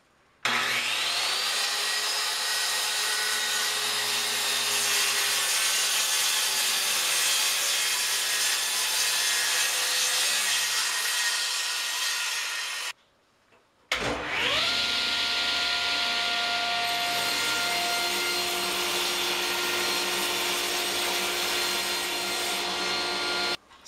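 A table saw with a crosscut sled cuts pieces of wood in two long, steady passes. The blade whines loud and continuous, stops for a brief gap, then starts up again for the second cut.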